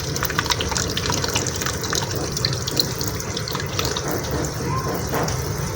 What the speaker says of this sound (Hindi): ये देखें पानी यहाँ से निकल आया है इसमें से।